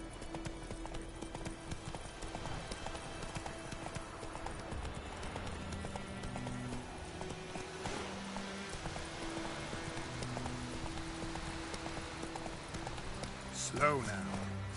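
Roach the horse galloping in The Witcher 3, a steady rhythmic clip-clop of hooves running under game music and dialogue, with a brief louder sound near the end.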